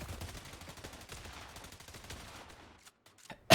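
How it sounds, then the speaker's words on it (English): Rapid bursts of dual SMG fire in a Fortnite FNCS Division 1 match, dense crackling shots rattling steadily for over two seconds before cutting off into near silence with a final sharp hit. "Bro, these double SMGs"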